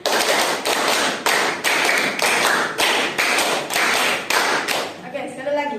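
A classroom group claps in a counted rhythm during a micro-teaching practice lesson: about a dozen sharp, loud claps come close by in grouped bursts with short pauses between them.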